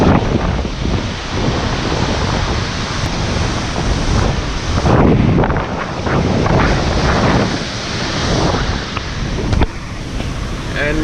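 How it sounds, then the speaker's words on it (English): Strong gusty wind from a tropical cyclone roars and buffets the microphone outdoors, loud and continuous with surging gusts, while a person talks underneath. "I mean, it's still windy"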